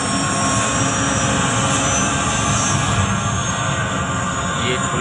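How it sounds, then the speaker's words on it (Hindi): Loud, unbroken rotor and engine drone of a simulated helicopter flight on a museum ride in Delhi, holding steady with no voices over it. "उड़ने वाला है वही हमारा हेलीकॉप्टर।"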